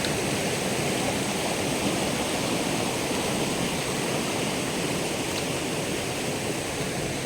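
Water pours steadily at Puntang Mother Falls, a dense, unbroken rushing roar of the waterfall that stays loud and even throughout, with no voices.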